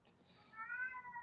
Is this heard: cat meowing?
yes